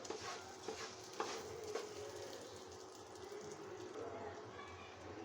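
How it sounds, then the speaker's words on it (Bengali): Rice being stirred and fried in a pan for morog polao, a soft steady sizzle with scraping spoon strokes, clearer scrapes in the first two seconds, no talking. "নেড়ে চেড়ে চাউলটা আমি ভেজে নেব"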